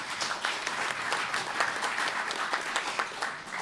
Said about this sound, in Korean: 다시 한번 박수 한번 보내주시죠